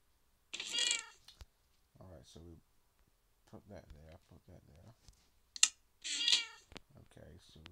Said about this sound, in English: So, yes, I have cats. I have four of them.